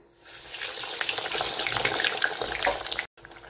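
A ready-made veg corn tikki patty frying in hot oil makes a steady, close, loud bubbling sizzle for a few seconds before a brief cut.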